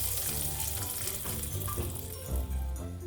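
Hot oil tempering with popped mustard seeds is poured into a pumpkin and red cow bean curry, giving a loud, close, continuous sizzle and bubbling crackle that persists throughout without any talking.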